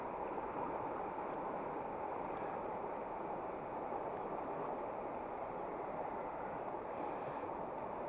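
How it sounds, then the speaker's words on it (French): A tiny stream running down beside a trout fishing spot, a faint steady wash of flowing water with no pauses. "Regardez un petit ruisseau qui descend"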